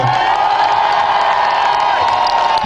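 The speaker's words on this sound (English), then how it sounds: "Everyone, round of applause for Peter." Audience applause and cheering for a tour manager named Peter Hill, a loud crowd of clapping and whoops sustained across the whole moment, close and dense with shouted voices mixed in.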